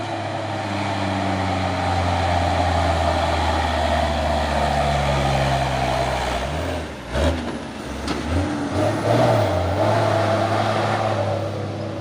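A Hino palm oil tanker truck rumbles past close by, its low engine drone steady, then a brief dip and a burst of revving as it goes by.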